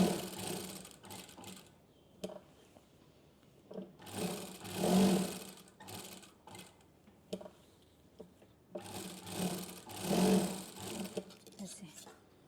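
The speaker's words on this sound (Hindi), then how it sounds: "फिर आपको सिलाई लगानी है।" Sewing machine stitching a coat-style blouse collar, two sustained whirring runs of several seconds each with quieter gaps and faint handling clicks between, close by, while someone talks over parts of it.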